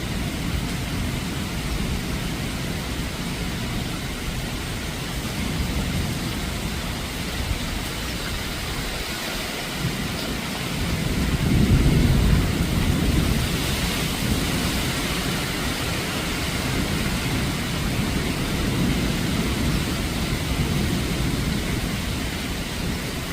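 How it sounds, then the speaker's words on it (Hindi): Steady pre-monsoon rain falls in Nathdwara in the evening, a dense, even hiss that swells a little partway through, loud and close, with no one speaking. "प्री मानसून बारिश के जो दृश्य आप देख रहे हैं, यह प्रभु श्रीनाथ जी की नगरी से हैं।"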